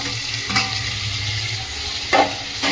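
Tomatoes cook with capsicum and onion in a pan under a steady, close sizzle. A couple of brief stirring scrapes break through, and there is no talk.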